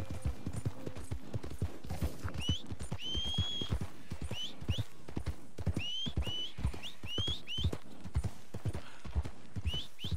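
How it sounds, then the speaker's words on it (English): In Red Dead Redemption 2, horse hooves clip-clop in a steady brisk rhythm close by, joined by a few short whinnies and snorts, with no talk over it. "First, let me get into my horse."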